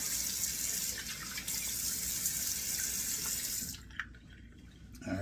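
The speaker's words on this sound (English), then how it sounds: "Turn it on the cold water to do a couple of splashes of cold water on the face." A cold-water tap gushes into a bathroom sink at face-washing time, a steady close hiss of running water that stops abruptly near the end, leaving a few faint drips and clinks.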